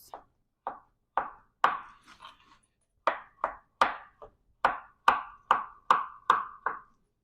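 A knife chops peeled food into small pieces on a board for avocado salsa verde, about fifteen sharp, close knocks in an irregular rhythm, mostly spaced evenly with short pauses, without speech.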